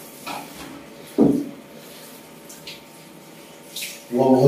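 Warm bath water bursts from a tap in short gushes, strongest near the end, with quiet room tone between the bursts.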